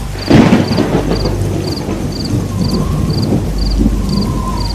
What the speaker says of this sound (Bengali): গাছের মধ্যে কর কর করে জোরে একটা বাজ পড়ল